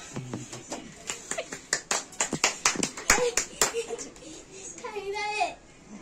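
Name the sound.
family clapping hands at birthday celebration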